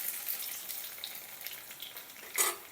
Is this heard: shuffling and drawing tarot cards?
no